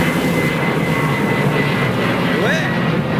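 An Edelweiss Airbus A340 with CFM56 engines roars loudly and steadily at Heathrow on runway 09R, a broad close jet rush with a thin whining tone through it.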